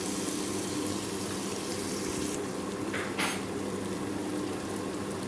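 Onions fry in oil in a pot for country chicken dum biryani, a soft steady sizzle with a brief clink of utensils midway and no voices.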